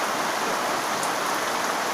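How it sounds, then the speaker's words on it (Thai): Heavy storm rain pours down steadily as a dense, continuous hiss, close and loud, with no other sounds standing out. "ฝนกำลังตกมาก"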